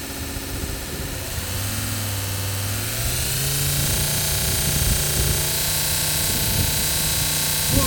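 An electric desktop belt grinder with a brushless motor spins at full RPM, giving a loud, steady whirring roar with a motor whine that climbs in pitch partway through and then holds constant.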